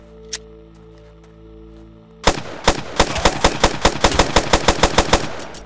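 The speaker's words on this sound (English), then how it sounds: "I don't know what else to do besides shoot the zombies" Rapid gunfire shooting zombies in the post-apocalyptic survival game Land of Silence: after a quiet stretch, a loud burst of evenly spaced automatic shots rings out, close and sharp, with no talk.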